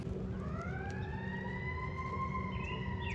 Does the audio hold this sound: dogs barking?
no